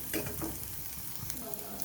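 A medium onion fries in mustard oil in a pan, making a steady, close, even sizzle with a few light stirring sounds near the start.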